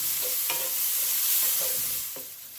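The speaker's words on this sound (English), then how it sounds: "I'm going to add a pinch of salt. And I'm going to saute this." Onion and scallion whites sautéing with a pinch of salt in a pan on high heat, a steady sizzle broken by several sharp scraping stirs of a utensil against the pan, close and moderately loud.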